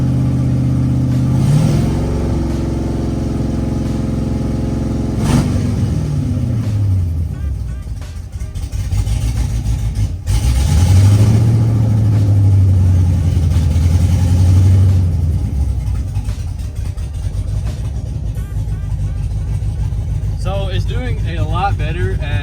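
An LS V8 swapped into a Mustang idles steadily at about 700 rpm on its first start, with a low throb under talk. A couple of light throttle blips briefly raise the pitch, and the engine settles back each time.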